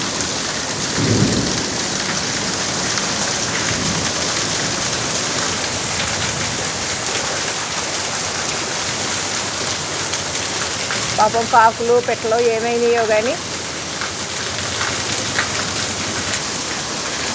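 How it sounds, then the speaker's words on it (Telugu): Heavy summer rain pours steadily onto surfaces in Rajahmundry with rumbling thunder, a dense loud wash throughout while someone speaks briefly near the end. "ఇప్పుడు ఎంత వర్షం వస్తుంది అని అనుకున్నాం"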